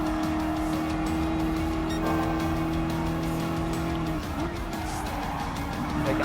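Dodge Charger SRT Hellcat engine in Gran Turismo Sport racing, a continuous loud high-revving drone with steady tonal whine and a gear shift partway through, heard close without pause.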